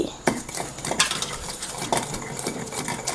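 Cumin and garlic ground together in a stone mortar for roti pachadi, giving a steady run of gritty scraping and knocking strokes that sound close and fairly loud, with a few sharper hits.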